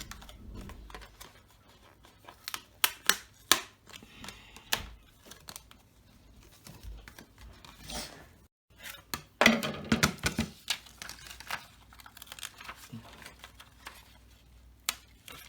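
Scissors snip out card and acetate pieces for a cupcake shaker birthday card, a scattered run of sharp close clicks and snips with quiet pauses between them.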